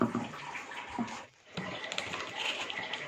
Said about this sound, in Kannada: ಸ್ವಲ್ಪ ನೀರು ಹಾಕ್ತಾ ಇದ್ದೀನಿ